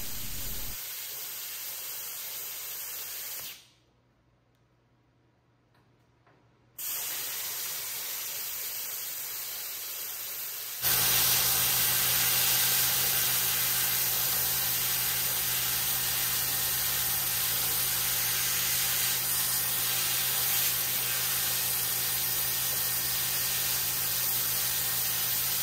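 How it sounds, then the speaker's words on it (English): Electric plasma cutter fed by an air compressor cutting scrap steel for a table: a steady loud hiss and rush of air, broken by a short quiet gap, then a stronger continuous hiss. "it does need the air to blow out the molten metal and to blow the plasma through the metal"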